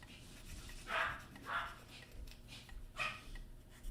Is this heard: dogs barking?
yes